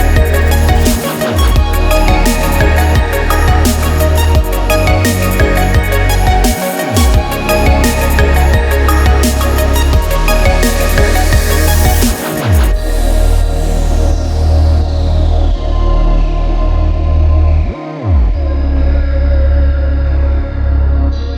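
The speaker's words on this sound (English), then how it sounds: "we're rolling inside for a car wash" Automatic car wash running with a car inside, a loud continuous wash of spraying water and whirring brushes filling the cabin, with deep rhythmic thumps recurring every few seconds as the machinery passes over.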